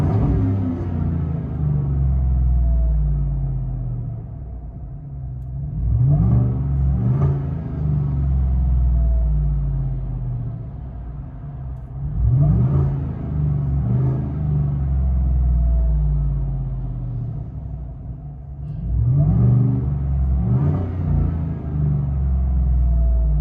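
Supercharged GMC 5.3L V8 truck engine with a Black Widow single exhaust, heard from inside the cab, idling with a deep rumble and revved three times, each rev rising sharply then falling back to idle.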